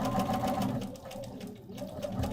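A sewing machine stitches curves in fabric with a quiet, rapid needle chatter in short rhythmic bursts that briefly slow and then pick up again, heard close and alone.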